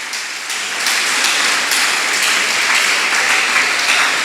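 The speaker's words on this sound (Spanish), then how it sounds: "Démosle aplauso a Ezequiel por ese saludo" A church congregation applauds together, a loud, sustained wash of many hands clapping that swells after a slightly quieter start and continues steadily without talk.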